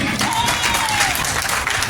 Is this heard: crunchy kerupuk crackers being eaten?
no